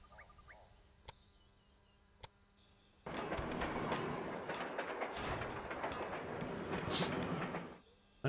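A train rumbling along rails in the Railway Empire video game, a dense, steady mechanical roar that starts abruptly after a few quiet seconds with faint clicks, holds for several seconds, then cuts off.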